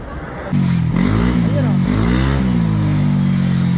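A stock motorcycle fitted with only an aftermarket pipe and 2.1 GBT runs on its center stand, its engine revving hard and sustaining a loud, steady full-throttle drone with rises and dips in pitch.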